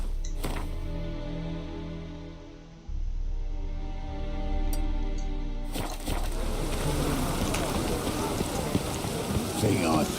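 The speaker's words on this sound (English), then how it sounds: "It's raining again." Steady rain in The Witcher 3, a dense hiss of drops that drops out briefly near three seconds and then returns fuller and louder, running on without speech.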